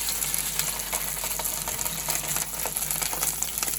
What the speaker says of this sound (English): So let's get this seared off.